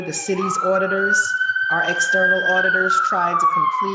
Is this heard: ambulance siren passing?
yes